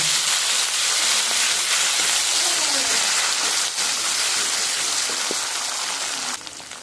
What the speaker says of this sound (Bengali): জিরেটাকে একটু কষিয়ে নেব